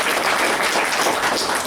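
An audience at a special education session applauds in a short, dense burst of many hands clapping at once. The clapping stays even and fairly loud from start to finish.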